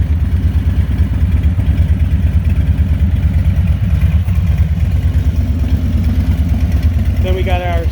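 A 2021 Harley-Davidson Street Bob with a Vance & Hines Eliminator 300 exhaust, its baffles removed, idles loudly and close by with a steady, rapid, lumpy pulsing rumble throughout.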